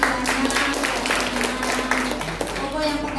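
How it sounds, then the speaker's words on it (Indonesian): Brief scattered audience clapping for the multimedia team at an Indonesian church marriage-enrichment seminar, light and short-lived, heard beneath a speaker's amplified voice talking over it. "Tepuk tangan dulu untuk multimedianya"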